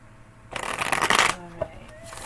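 A deck of oracle cards shuffled briskly in one burst of riffling, close by, followed by a couple of soft taps as it settles.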